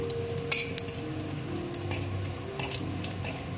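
Cumin seeds fry in a wok of oil with dried red chillies and bay leaves, giving a soft, steady sizzle with a few faint utensil clinks, quiet and close.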